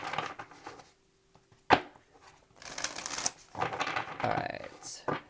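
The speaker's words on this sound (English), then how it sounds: "Two more shuffles for Leo." Tarot cards being shuffled in a few bursts of crisp riffling and flicking, close and fairly quiet, with a pause of near silence partway through and a sharp tap on the deck.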